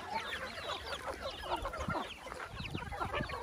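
A flock of chickens clucks and murmurs constantly while being fed rice on a mountain farm, many overlapping soft calls nearby at a low, steady level.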